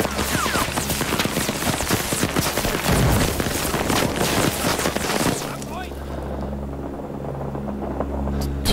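Dense gunfire in the video game Rising Storm 2: Vietnam, rapid overlapping shots and bursts with a heavy rumbling vehicle or helicopter drone underneath, cutting off into a quieter steady engine hum after about five seconds.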